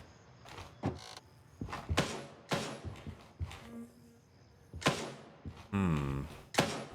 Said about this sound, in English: we're gonna reload here quick